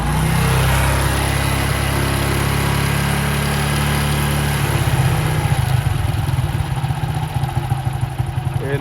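Motorcycle engine running at a normal idle, a loud close steady chug that shifts to a slightly rougher, pulsing rhythm midway.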